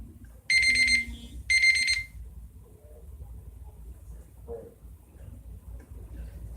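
Nail curing lamp timer beeping, two loud bursts of rapid high electronic beeps close up, then quiet with a faint click.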